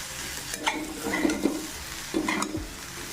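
Lentils and onions with salt and turmeric fry in a pan, a low steady sizzle under a few scraping, clattering stirs from a utensil against the metal, close and fairly quiet.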